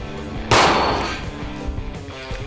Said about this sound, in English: You can actually shoot with stack Glock sights.